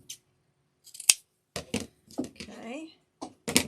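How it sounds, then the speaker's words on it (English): A string of crisp, irregular snips from scissors cutting through ribbon for a floral bunny wreath, each sharp and close, with short pauses between cuts. "I have my right scissors here."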